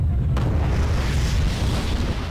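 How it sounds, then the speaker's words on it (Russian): A nuclear bomb detonates in the video game Garry's Mod, a sudden loud burst that swells into a dense, sustained rumbling roar with heavy low end, heard alone. "Давайте жахнем бомбу ядерную."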